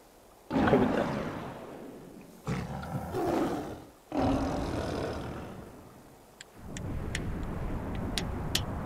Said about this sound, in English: Why is Scar being intimidated by this tiny lion puppy